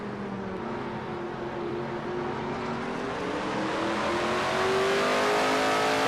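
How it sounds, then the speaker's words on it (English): A race car engine at Sonoma Raceway during an NNSCRA Castrol GTX Cup Series race, a steady droning hum as the driver feathers the throttle through the turns, the pitch slowly climbing and growing louder toward the end. "You hear him playing with the throttle just a little bit, not to go through their full throttle"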